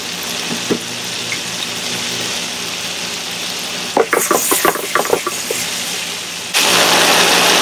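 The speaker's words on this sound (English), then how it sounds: "I started by melting some butter here in my pan" Butter melting in a pan while pasta is being made, a steady close hiss with a burst of clattery knocks partway through, and the sizzle grows louder near the end.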